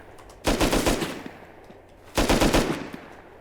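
Automatic gunfire in the video game Rust comes in two loud, close bursts of rapid shots, each lasting about a second, separated by a short quiet gap, with no speech.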